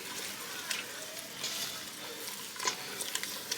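A roux being stirred steadily in a pot for a Creole or Cajun dish, giving a soft continuous scraping and gentle sizzle with a few light clicks of the spoon against the pot, close and fairly quiet.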